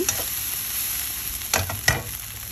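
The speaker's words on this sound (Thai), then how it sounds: "เราจะเปิดไฟให้แรง เพื่อที่จะคั่วข้าวให้เกรียมแล้วก็หอม" Egg fried rice stir-fried over high heat in a pan, a steady loud sizzle broken by two sharp scraping stirs near the end, with no voices.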